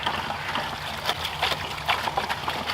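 Water for compost tea splashes and trickles steadily into a container, a continuous bright, bubbly pour with small surges, close and without talk.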